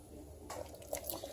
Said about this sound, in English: you can see that this pot is bubbling away